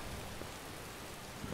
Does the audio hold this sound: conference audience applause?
no